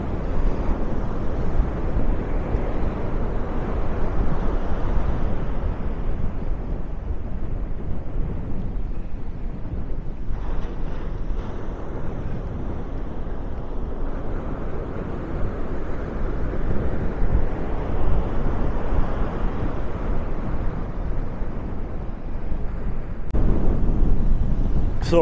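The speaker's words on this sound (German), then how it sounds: "Und die Wellen dazu." Waves roll in on a beach at Maspalomas, Gran Canaria, with a steady, heavy rush and strong wind buffets the microphone, a continuous low roar that swells briefly near the end.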